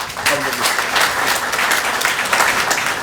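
Audience at a formal government press event breaks into steady applause, a continuous clapping wash lasting a few seconds, with a faint voice briefly underneath at the start.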